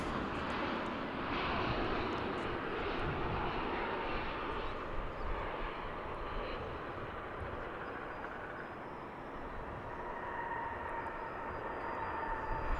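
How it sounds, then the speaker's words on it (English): A UPS Boeing 767 airliner coming in to land at DFW International Airport, its engines a continuous broad roar that holds steady at moderate distance. "This is a UPS 767 coming in from Louisville."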